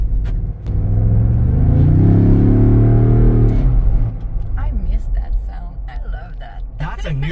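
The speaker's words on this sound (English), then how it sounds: "that particular sound that a Bronco made" A 2025 Ford Bronco engine while driving, rising in a loud, close, throaty rev for a few seconds before settling into a lower rumble, with people talking over the later part.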